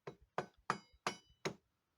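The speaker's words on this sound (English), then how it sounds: "I will use now my favorite tool, hammer" Hammer tapping front brake pads into place on a BMW K1100 motorcycle, five sharp metallic taps at a steady rhythm, close and clear with faint lighter rebounds between them.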